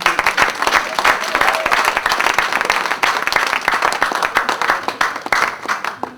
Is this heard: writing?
no